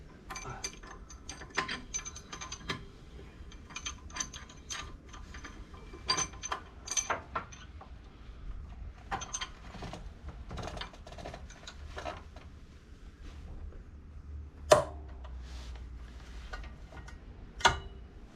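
Rapid ratchet clicking and small metal mechanism sounds while a plate is tightened on a Can-Am Maverick X3 side-by-side during a drive belt swap, steady close ticking with a few sharper clacks and no talking.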